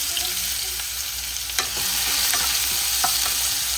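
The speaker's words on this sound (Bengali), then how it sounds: "আমি পেঁয়াজ দিয়ে দিচ্ছি।" Onions tossed into hot oil that was heated with a little sugar, for a street-style kabuli chana ghugni: a loud, continuous dense sizzle up close, with a few scattered spoon scrapes and knocks and no voices.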